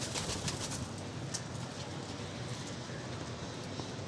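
Teddy pigeons in a breeding setup coo softly amid scuffling and fluttering, a busy close-up murmur of birds with occasional light taps and no talking.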